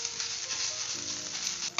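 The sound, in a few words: stirring grated boiled potato with fried onion in pan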